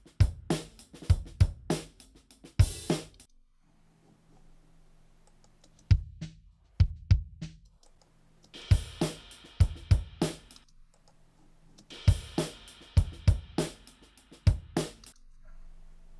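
A drum recording with the overhead mics phase-flipped, giving a hollow, boxy tone; sharp kick and snare hits with cymbal wash come in short busy bursts separated by quiet pauses.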